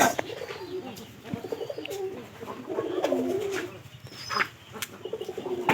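Several pigeons coo repeatedly nearby in soft, rolling phrases, with a few light chirps and rustles mixed in.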